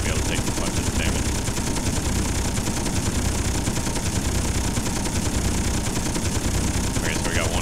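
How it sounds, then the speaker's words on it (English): Ship-mounted guns firing in the Space Engineers video game, a loud unbroken stream of rapid automatic shots rattling on throughout, dense and close, with a voice talking underneath. "I'm just shooting while going around it just to see what type of damage we can get"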